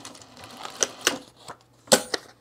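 A sewing machine stitches fur fabric in short bursts, giving a few sharp clattering, rattling runs close by with quiet pauses between them.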